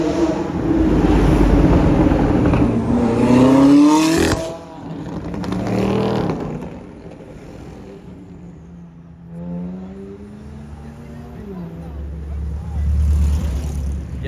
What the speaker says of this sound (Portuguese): Ele falou que essa aí é V8 e eu tinha falado que era V10 pelo ronco